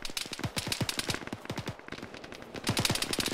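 Uzi fire in the military shooter Arma, quick bursts of sharp automatic shots repeating in clusters, loud and close with brief pauses between bursts.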